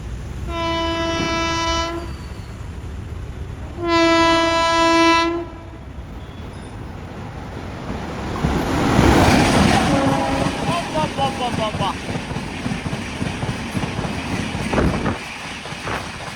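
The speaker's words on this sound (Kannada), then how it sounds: "ನೀವು ಇವಾಗೇನು MGR Chennai central super fast express skip ನೋಡಿದ್ರಲ್ಲ, ಫ್ಲ್ಯಾಟ್ 130 ಹೊಡೆದಾಗರು" MGR Chennai Central Superfast Express rushing through Hoodi Halt at high speed, two loud horn blasts followed by a roaring rush of wheels and rail clatter close by, with a voice heard faintly.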